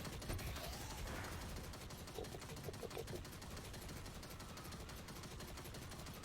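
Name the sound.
turrets firing in Destiny video game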